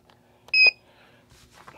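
A short, bright electronic slot machine buzz-tone sounds once for a fraction of a second amid quiet background noise.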